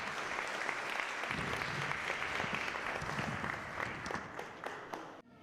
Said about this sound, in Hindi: आपकी भरपूर तालियां उनके लिए चाहेंगे।